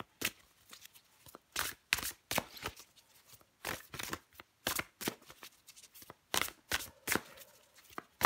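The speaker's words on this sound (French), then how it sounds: "je prends encore une carte pour vous, les Capricornes" Tarot cards are shuffled and drawn by hand: a close, quiet run of crisp riffling bursts and soft slaps in an uneven rhythm, with short pauses between.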